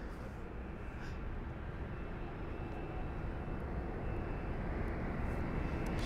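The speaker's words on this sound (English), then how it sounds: "So the BA320neo with the Reg Golf Tango, Tango November Romeo GTTNR with the flight number BA676 heading to Istanbul" A British Airways A320neo airliner departing London Heathrow gives a steady, broad jet roar that holds at an even loudness throughout, with no voices.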